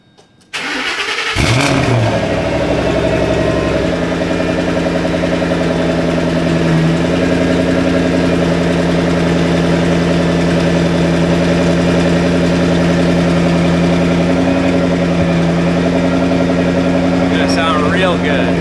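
A stock-exhaust 2009 GT500 fires up on a cold start, then settles into a loud, steady, rumbling idle that continues throughout with no one speaking.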